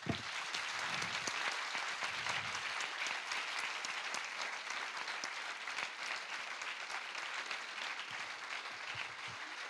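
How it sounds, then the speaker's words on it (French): Audience applause fills the room for the French president at an evening public talk, a steady dense wash of clapping that holds evenly throughout without letting up. "vous demande d'applaudir chaleureusement Monsieur le Président"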